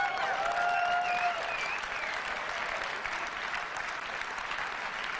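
A live keynote crowd applauds and cheers loudly for Steve Jobs after his finger-swipe scrolling demo, a dense steady roar of clapping with a few whoops and whistles early on, filling the whole stretch without letup.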